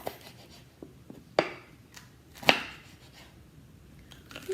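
A knife chops the ends off jalapeno peppers on a cutting board, two sharp thuds standing out among lighter scattered taps.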